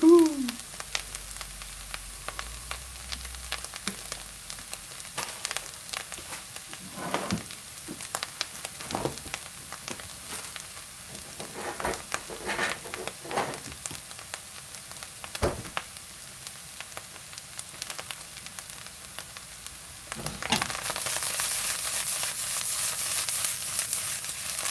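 Bacon, caramelized onion and black trumpet mushrooms frying in a pan, a soft steady sizzle with scattered stirring scrapes, growing louder near the end.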